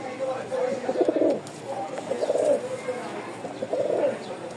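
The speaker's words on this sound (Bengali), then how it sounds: "প্রচুর ডাক। সব কবুতর তো ডাকে না, কিছু কবুতর ভয় পায়।" Pigeons, flying breeds kept for sale in Rajshahi, give soft throaty coos in three rolling bursts, close by, with a person talking between them.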